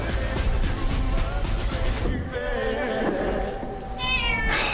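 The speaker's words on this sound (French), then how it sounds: "Je déteste ce chat." A cat meows over a dense, busy background, with a couple of drawn-out cries near the start and a clearer wavering meow at the end. Voices can be heard faintly underneath.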